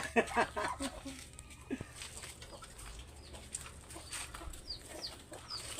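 Chickens cluck in a farmyard where ducks and doves are also kept, with a few sharp clucks near the start, then softer scattered bird calls over low background noise.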